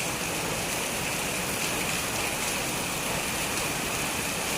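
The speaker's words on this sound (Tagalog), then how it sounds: "Ayan, umulan din sa wakas." Steady rain falls on trees during the first rain of May in the Philippines, a dense, continuous hiss of drops filling the whole clip, close and fairly loud, with no voices.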